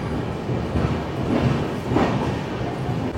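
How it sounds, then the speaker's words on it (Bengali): Howrah Barbil Jan Shatabdi Express pulling out of Kharagpur station, heard from onboard as a steady low rumble with faint rhythmic rattling. "তো আমরা এখন খড়গপুর স্টেশন ছেড়ে বেরিয়ে যাচ্ছি"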